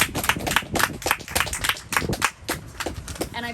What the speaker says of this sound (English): a huge round of applause from this small mighty group for OTF